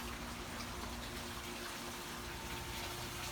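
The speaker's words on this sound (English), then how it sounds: "A little trickle of water coming from" Water trickles steadily from a fountain in a marine lab aquarium, a soft continuous wash with a faint low hum beneath, even and unbroken throughout.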